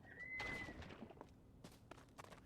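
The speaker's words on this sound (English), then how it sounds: "hear like some kind of wild bird" A wild bird calls in the Zelda: Tears of the Kingdom video game, a brief whistled note followed by scattered chirps and soft game sounds at low volume, with no talking.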